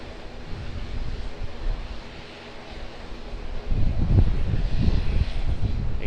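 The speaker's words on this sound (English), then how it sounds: "So we've just got an Air Chathams ATR 72 starting up." An Air Chathams ATR 72 turboprop starts up at Auckland Airport, a distant engine roar that swells and grows louder partway through under steady wind noise.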